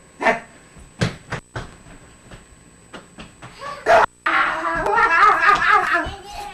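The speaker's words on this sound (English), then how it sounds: "Nice dog." A dog barks several times in short, sharp, close bursts spaced apart, then whimpers and whines, with a person talking nearby.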